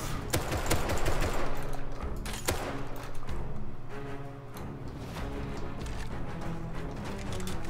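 Gunfire in the survival game Rust: a sustained, loud fusillade of rapid automatic shots with scattered heavier thuds, continuous throughout and close by, with no talking.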